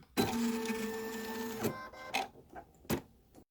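Embroidery machine stitching quilting lines on a wallet held in a hoop, a close, steady mechanical whir and buzz with a humming tone, broken by a few sharp clunks toward the end.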